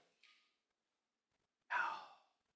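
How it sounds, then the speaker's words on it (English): A slow, deep breath drawn in and let out close to the microphone, a brief soft inhale followed after a pause by a fuller breathy exhale that fades out, otherwise quiet. "take a deep breath"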